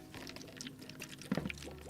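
Cold ice water is poured into a bowl at a campfire cooking setup for vegetable tempura batter, giving a brief close splashing pour with a short gurgle near the end over faint background ambience.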